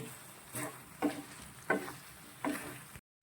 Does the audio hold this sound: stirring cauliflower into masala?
yes